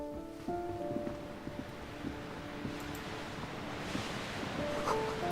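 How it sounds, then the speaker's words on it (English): Waves washing ashore in the dark in the Disco Elysium video game, a soft continuous surf hiss with a faint wind-like wash beneath light musical tones, no talk. "Waves crashing in the darkness."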